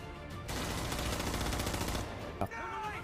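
Sustained automatic gunfire from a World War II battle scene in a war film about Japanese troops, a fast steady rattle of machine guns with a heavier blast near the end, fairly quiet in the mix.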